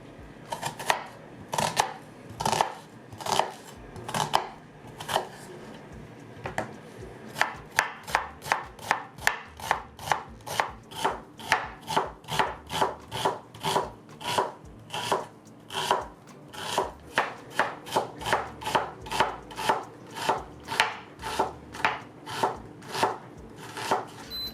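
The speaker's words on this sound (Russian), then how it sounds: "Лук нужно мелко порезать." A knife finely chops onion rapidly and rhythmically against a board, sharp even strikes speeding up into a steady run of quick cuts.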